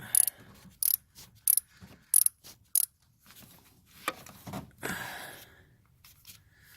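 A ratchet wrench works on the spark plugs of a 2000 Ford Explorer during a tune-up, giving several sharp, close clicking bursts followed by quieter metallic handling sounds.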